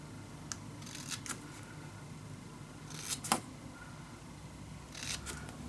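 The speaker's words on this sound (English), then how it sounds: "I'm gonna cut this in a little triangle" Scissors snip through craft paper to cut a small triangle for a dog-themed mini album, a few crisp close cuts spaced apart, the loudest near the middle, with quiet handling rustle between.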